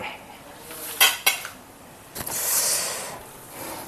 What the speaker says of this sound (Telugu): ఒకసారి మూత ఓపెన్ చేద్దామండి